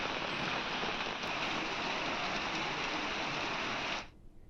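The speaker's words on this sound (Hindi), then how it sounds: "तेज बारिश के साथ ओलावृष्टि हुई है।" Heavy rain with hail in Almora pours down as a dense, steady roar, loud and close, continuing without a break for about four seconds before cutting off abruptly.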